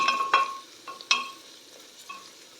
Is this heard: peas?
yes